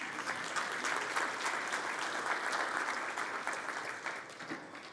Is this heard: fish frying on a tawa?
no